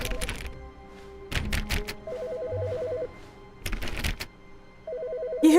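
A telephone rings in the video game The Stanley Parable, loud and close, its repeated electronic trills alternating with sharp thunks and clicks.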